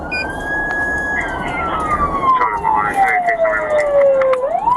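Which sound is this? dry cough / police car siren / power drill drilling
police car siren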